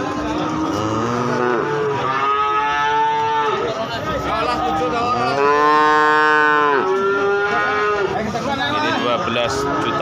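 Young bull calves moo repeatedly at the Gorang Gareng cattle market in Magetan, East Java, their loud drawn-out calls overlapping amid crowd chatter and people talking nearby.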